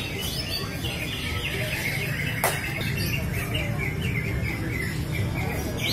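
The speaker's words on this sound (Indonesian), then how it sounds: "ini cicak hijau pemanasan, peserta udah pada bersiap-siap guys" Green leafbirds sing in rapid chirping, warbling phrases during a bird-song contest warm-up, several birds overlapping against a busy outdoor background with a sharp squawk midway.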